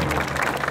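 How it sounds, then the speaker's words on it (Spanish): Outdoor crowd at a civic student parade clapping, a dense, loud burst of applause lasting under a second, with low background rumble underneath. "Aplausos más una vez"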